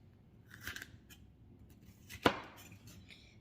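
A knife cuts a vegetable into bite-size sections on a board for dinner: a few soft scraping cuts early on, then one sharp, crisp chop, with quiet room noise between.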